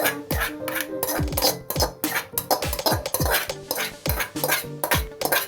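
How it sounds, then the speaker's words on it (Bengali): Gobindobhog rice, soaked and parboiled, stirred with dal in a metal pot for khichdi, with a spoon scraping and clanking against the sides in quick repeated strokes, close and fairly loud. "চাল ডাল দিয়ে দিলাম, দিয়ে এবার ভালো করে কষাতে হবে"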